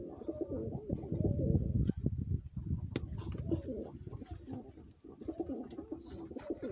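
A pigeon coos nearby in soft, throaty rolling phrases, repeating several times with brief pauses and faint rustling.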